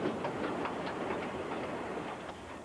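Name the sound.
modern train rolling into Calgary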